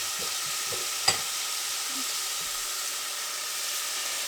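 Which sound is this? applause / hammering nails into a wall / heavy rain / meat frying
meat frying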